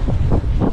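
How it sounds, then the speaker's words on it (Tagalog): Strong wind buffets the microphone during a gravel bike race, a loud continuous rumbling roar with gusty surges across the whole short moment. "Grabe hangin."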